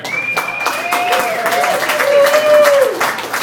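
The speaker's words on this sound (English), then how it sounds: "Ladies and gentlemen, give it up for Mr." Applause from a comedy club audience continues steadily while a host talks over it, introducing the next comic to the stage.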